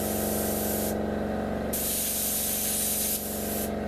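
An airbrush run by a noisy compressor sprays silver paint onto a model B-29 bomber: a loud, continuous hiss of spray pulses on and off over the steady low hum of the compressor.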